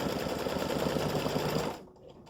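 Embroidery sewing machine stitching an applique design, a fast steady close mechanical rattle of the needle that stops abruptly near the end.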